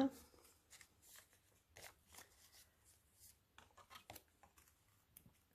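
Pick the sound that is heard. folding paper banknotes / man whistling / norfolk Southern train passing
folding paper banknotes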